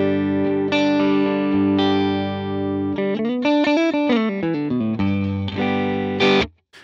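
Electric guitar played clean through a Helix Matchstick Channel 1 amp model with the delay switched off, sustained chords then a run of quick picked notes, loud and alone before ending abruptly.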